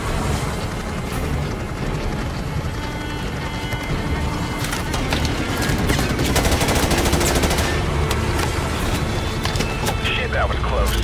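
Dense, continuous gunfire in a Call of Duty MW mission, rapid machine-gun bursts and shots layered over a loud constant battle din, with radio-style voices talking in between.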